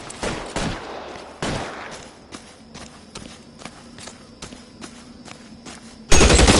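Gunfire in the 1940s Los Angeles crime game LA Noire: several sharp gunshots early on, followed by quieter scattered clicks and taps, then an abrupt loud burst of noise at the end.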